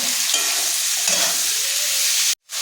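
Onion, garlic and ginger frying in a pan for chicken curry, a loud, dense sizzle with stirring close up, cutting off abruptly just before the end.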